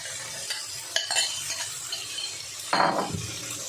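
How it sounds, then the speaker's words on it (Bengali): Water from rinsing a bowl is poured into mutton cooking in a pan with a hand-ground spice paste, then stirred, giving a short splashy pour and a few scraping, clinking stirs close by with no talk. "এবার বাটিটা ধোয়া জলটা দিয়ে দেবো।"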